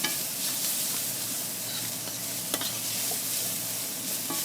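Garlic frying in a pan for a shrimp and grits dish, a continuous hissing sizzle with occasional light pops and stirring clicks, close and alone without talk.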